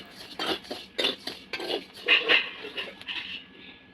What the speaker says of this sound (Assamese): মই চাউল ভাজি আছোঁ